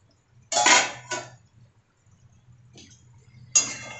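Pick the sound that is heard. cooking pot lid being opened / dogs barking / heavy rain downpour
cooking pot lid being opened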